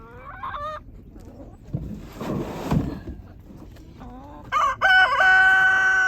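A rooster in a farm chicken coop lets out a loud, close crow near the end, after scattered softer fowl calls and honks.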